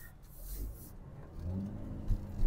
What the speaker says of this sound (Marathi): मी रेव्ह करतोय